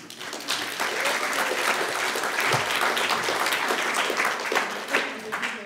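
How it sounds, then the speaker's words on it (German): A seated audience at a museum panel event on migration and diversity claps in a steady, full round of applause that holds evenly from start to finish with no speech over it. "Das verdient Applaus."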